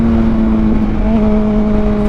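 Motorcycle in first gear powering up without the clutch, a loud close engine note that holds steady then climbs briefly at the end.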